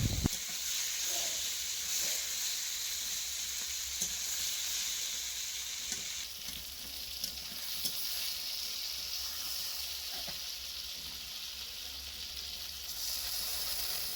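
Fish curry with ridge gourd fries and sizzles in a pan, a soft continuous hiss with occasional faint stirring knocks, fairly quiet and without any voices.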